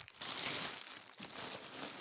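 Plastic parcel packaging crinkles and rustles steadily while being handled during an unboxing, with a brief dip before the rustling resumes, close and fairly quiet.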